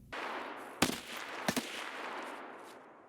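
Enemy gunfire in Escape From Tarkov, two sharp shots ringing out at a distance over a steady wash of background noise, with no talk.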